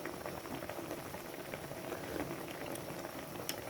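Paksiw, a Filipino vinegar stew, boils steadily in a cooking pot, a continuous close bubbling and gurgling with no voices.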